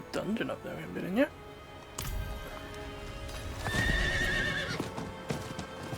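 A horse in the video game Diablo 4 whinnies and then its hooves clop as it gallops, close and fairly clear amid other game sounds.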